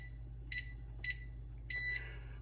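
A kitchen timer beeps near the stove while rice is cooking, giving three short electronic beeps, the last one longer, over a low steady hum.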